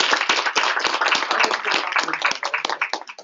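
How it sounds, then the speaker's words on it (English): A short round of applause for Cindy from a small group at a Saturday training session, close, crisp hand claps that start loud and thin out toward the end, with no talking. "Can we give Cindy a round of applause?"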